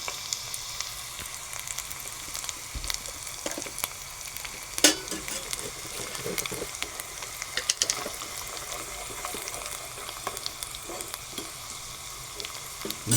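A tempering for potato bhaji fries in a pan for vada pav filling, a continuous crackly sizzle with scattered pops and occasional louder spits, close and steady throughout.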